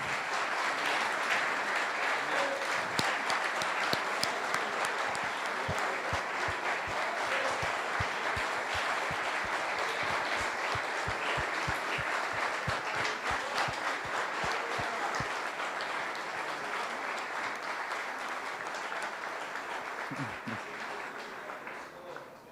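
Sustained applause from a gathering at a pastors' retreat, a dense, even wash of many hands clapping that carries on for the whole stretch and fades slightly toward the end, with a few faint voices underneath.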